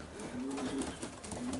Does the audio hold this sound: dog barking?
no